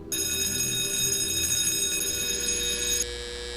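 Telephone ringing in a TV episode, a steady electronic bell-like ring with dense high harmonics sustained for about three seconds, then dropping to a quieter tail, loud and alone with no talk over it.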